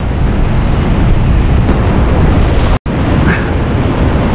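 Ocean waves break against coastal rocks in a continuous loud roar of surf, mixed with gusty wind buffeting the microphone and a brief dropout near the middle.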